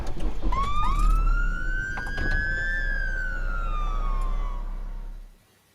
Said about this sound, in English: That's the most rubbish police siren I've ever heard in my life.